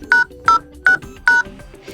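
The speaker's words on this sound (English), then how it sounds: "Just tap on Phone Dialer at first, go to keypad and press secret code" Four evenly spaced keypad beeps from a Cubot KingKong Mini 2 phone dialer as a secret code is entered, each a short, clear, loud tone with brief gaps between them.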